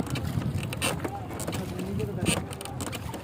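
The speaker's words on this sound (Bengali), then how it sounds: "নৌকা চলতেছে" A boat moves along the polluted Buriganga river, its steady motor rumble and water wash up close, with wind buffeting and people talking over it.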